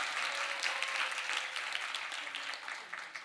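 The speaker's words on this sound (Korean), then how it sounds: "박수." A church congregation claps during a Sunday afternoon service scholarship presentation, steady applause from a full room at moderate volume, sustained for a few seconds before tapering off slightly.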